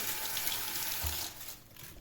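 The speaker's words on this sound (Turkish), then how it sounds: "ben yine de eti de bir kere daha yıkayayım" Raw meat is washed under a running kitchen tap, a steady splash of water falling into a sink with a brief heavier gush near the middle, fairly close and with no voices.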